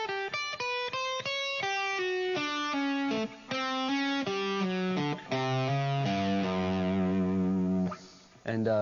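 Electric guitar playing rock fusion licks built on flat fives, with distortion and effects: quick stepping note runs in a flowing rhythm, then sustained bends and held notes, played alone.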